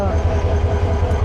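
Diesel locomotive of the Tista Express idling at Kamalapur railway station in Dhaka, a steady low rumbling drone held throughout with busy platform bustle and a possible voice mixed in.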